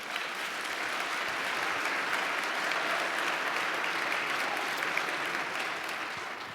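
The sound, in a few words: audience applause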